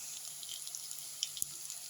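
Water running from a tap into a cooking pot for bulgur pilaf with meat, a soft steady trickle with faint splashes, quiet and close, no talk.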